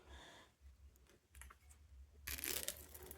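The peelable top seal comes off a small dye packet with a soft tearing crinkle, a few faint clicks of handling first, then a short louder rip near the microphone.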